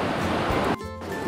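Ocean waves at Manuel Antonio beach wash in as a loud, broad surf roar that drops off abruptly partway through, then a quieter rush of water returns.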